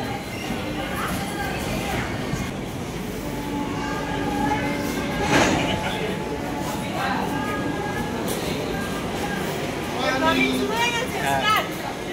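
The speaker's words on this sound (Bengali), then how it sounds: "তো আমাদের ট্রেন চলে এসছে" A train rumbles into Burdwan railway station with steady rolling clatter, faint wheel squeals and station bustle, while people talk nearby throughout.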